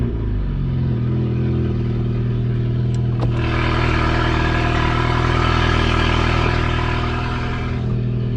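A Mini JCW engine runs steadily at close range with a deep, continuous idle, and a fuller surge partway through sounds like a rev. It plays alone, with no talking.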